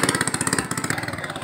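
A small boat engine runs in a bancarera boat race, putting out a steady, fast-pulsing putter with a rhythmic chug. It is close and fairly loud throughout, and there are no voices.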